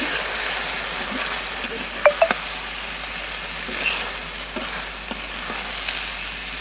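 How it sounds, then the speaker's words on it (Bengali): Cumin seeds frying in hot oil as the base for a Bogura-style flat bean fry, a steady soft sizzle with a few sharp pops and clicks scattered throughout, no voices. "এই যে জিরা দিয়ে আমি কিন্তু তেলানি করতেছি"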